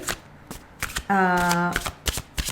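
Tarot cards shuffled by hand in quick riffling bursts and soft slaps, close and crisp, with a brief hummed voice tone in the middle.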